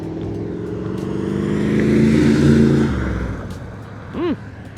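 A 1987 Chevrolet Camaro IROC-Z passes close by with its engine note swelling and revving, peaking mid-pass and then fading, followed by a short rising tone near the end.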